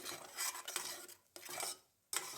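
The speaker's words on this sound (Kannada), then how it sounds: "ಮಸಾಲೆ ಏನು ರುಬ್ಕೊಂಡಿದ್ವಲ್ಲ ಅದನ್ನೆಲ್ಲ ನಾನು ಈ ಒಂದು ಕುಕ್ಕರ್ಗೆ ಸೇರಿಸ್ಕೊಂಡು ಮಿಕ್ಸ್ ಮಾಡ್ಕೊಳ್ತಾ ಇದ್ದೀನಿ" Ground masala paste being stirred in a pressure cooker for vegetable saagu, a scraping, clinking stir with short pauses between strokes, close and fairly quiet.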